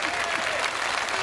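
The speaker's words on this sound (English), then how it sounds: "We've got a clap at last." Steady applause from an audience at a gathering of former Coventry City football players: dense, continuous clapping that fills the short clip at an even level, with no clear speech over it.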